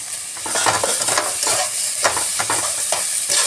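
Grated potato seasoned with salt, cumin powder and red chili powder frying in a pan for a semolina-potato stuffed steamed dish, with a steady close sizzle and repeated scraping stirs throughout.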